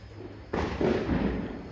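A single sharp Diwali firecracker bang bursts out after a quiet moment in a village, followed by a rumbling, crackling tail that lingers.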